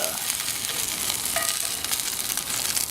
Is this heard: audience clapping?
no